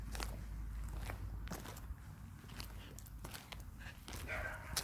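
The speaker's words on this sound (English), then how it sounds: "See, barky dogs." A dog barks a few times in the distance over steady outdoor background noise, with footsteps and faint rustling nearby.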